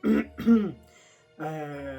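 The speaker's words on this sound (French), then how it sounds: "Dès que je me racle la gorge" Two quick, rough throat clears close up, followed by a short voiced hum, with no talking.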